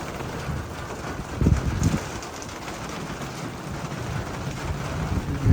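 Rain falls steadily in a village during gusty wind, a dense, continuous broadband wash with low rumbling buffets and occasional stronger gusts, loud and close to the microphone, with no talk.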